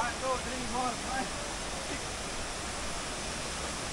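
Several waterfalls at Vera Falls in Bicol pour in a steady broadband roar, constant and fairly close, with a few voices speaking briefly at the start.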